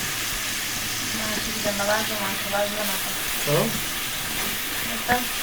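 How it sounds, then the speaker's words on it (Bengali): Chopped onion, garlic and ginger frying in a pan, a steady loud sizzle with stirring scrapes and faint background voices. "পেঁয়াজ রসুন আর আদা কুচিটা বেজে নিচ্ছি"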